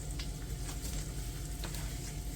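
Onions sizzle in a hot pan as they are stirred, a dense steady crackle with faint scraping strokes, close and alone without any voices.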